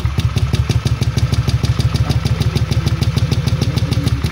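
A motorcycle that is hard to start and has a radiator fault, its engine chugging in a fast, even, loud pulsing rhythm heard up close, with no voices.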